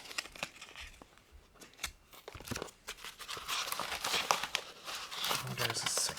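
A plastic sleeve is peeled and crinkled off the packaging of a TI-99 computer cartridge. The sound is close-up crackling and rustling in irregular bursts that grow busier toward the end.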